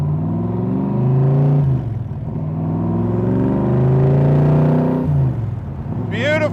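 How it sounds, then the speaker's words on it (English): A 1965 Shelby Cobra Backdraft engine rumbles loudly and close, swelling and easing as it is driven on a clear day, with gear-like rises in pitch and a brief tonal chirp at the end. "Beautiful day to take a Cobra for a ride."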